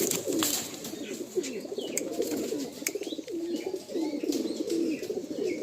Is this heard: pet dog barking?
no